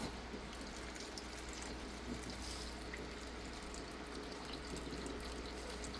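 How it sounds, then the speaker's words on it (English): Six cups of beef broth pour steadily into a pot, a continuous soft liquid splash and gurgle heard close and fairly quiet with no talking. "we're going to add, what is this, 6 cups of beef broth"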